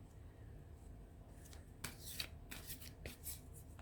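Tarot cards pulled and shuffled during an angel reading, with soft papery slides and a burst of quick riffling flicks in the second half, close and fairly quiet against steady low background noise.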